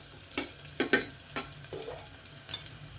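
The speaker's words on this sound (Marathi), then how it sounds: "काळा मिरी आणि लसूण थोडंसं झालं परतून" Garlic and black pepper fry with cumin in a pan of hot oil, a soft continuous sizzle broken by several sharp crackles and stirring scrapes, close and fairly quiet.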